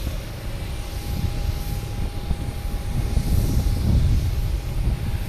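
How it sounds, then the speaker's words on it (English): JetBlue airliner taking off from Boston Logan, a broad roaring engine rumble heard from a distance that builds gradually and peaks near the end, with no voices. "we have JetBlue taking off to Sacramento, California"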